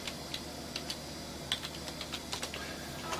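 Someone types on the computer keyboard of a 486 PC to enter a DOS command. The keystrokes are sparse, crisp and irregular, close by over a steady background hum, with no talking.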